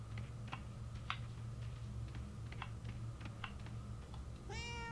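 Cat meowing in the video game Murdered: Soul Suspect, one short rising meow at the end after a run of quiet clicky taps over a low steady hum.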